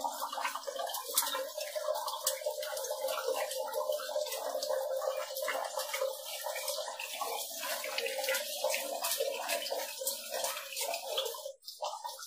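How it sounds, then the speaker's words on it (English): Water runs steadily into the tank of an Atomberg Intellion water purifier, a continuous close trickling and splashing that carries on for the whole stretch. "This mode indicates filling water tank."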